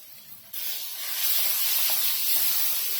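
Ground masala paste roasting in a hot pan for Kashmiri chicken gives a steady, close hiss and sizzle that jumps louder about half a second in and then holds unbroken, with no voices.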